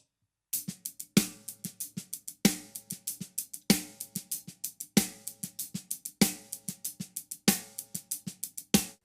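Drum kit hand pattern with hi-hat and ghost notes: steady clipped hi-hat strokes carry the groove, with louder accented hits recurring about every 1.2 seconds and softer ghosted strokes in between, played alone and up close.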